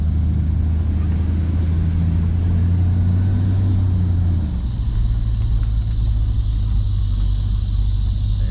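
A 1972 Oldsmobile Cutlass Supreme convertible drives along with a loud, constant engine rumble and road noise heard from inside, the low drone shifting pitch partway through as it changes speed.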